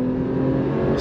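A Porsche 911 Carrera S engine roars hard under full throttle in launch mode, a loud, sustained, close revving drone as it launches forward.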